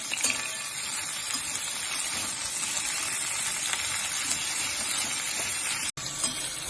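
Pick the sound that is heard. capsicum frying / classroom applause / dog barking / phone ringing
capsicum frying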